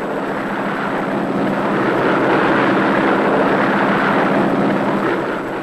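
A Curtiss Hawk propeller biplane drones steadily overhead, a loud, continuous roar with a wind-like wash and no voices.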